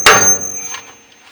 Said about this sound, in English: I'm going to hit this knuckle very hard because there's a taper bolt right here